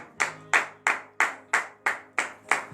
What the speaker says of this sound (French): Que je vous demande d'applaudir très très fort ce matin.